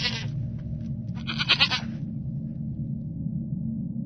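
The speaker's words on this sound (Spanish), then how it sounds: "se escuchara el balar de una cabra" A goat bleats from within a milpa cornfield, a sharp, wavering cry repeated in two close bursts over a low steady hum, near and fairly loud.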